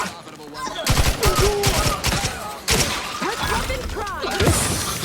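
Rifle gunfire in The Outer Worlds 2 rings out in loud, rapid bursts of overlapping shots, with brief pauses between volleys and game clatter and impacts mixed in.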